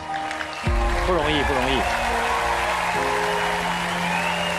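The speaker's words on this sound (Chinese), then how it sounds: "我们再次把掌声送给子毅" A studio audience applauds a fancy badminton performer after his record attempt, a steady clapping wash that begins abruptly and continues under a host speaking and background music.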